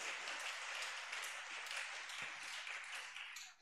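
A church congregation applauds with dense, continuous clapping that holds steady for a few seconds, then fades out at the end.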